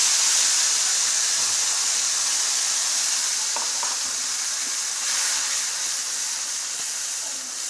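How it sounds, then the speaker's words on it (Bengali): Curdled yogurt goes into hot spices with asafoetida in a pan for a Bengali vegetarian eggplant dish, giving a loud, continuous close hiss and sizzle with a few faint clinks. "এবারে এর মধ্যে যে ফাটা দইটা ছিল মশলার সঙ্গে সেটা দিয়ে দিচ্ছি"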